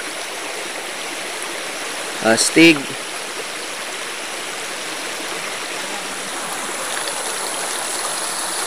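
A stream of water flowing from its source in a rural village rushes steadily and evenly throughout, with a brief spoken word rising over it partway through.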